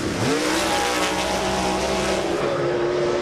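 Off-road race trucks, including an AMSOIL Ford, racing at Bark River, loud engines roaring close by with rising and falling revs as they push through a corner.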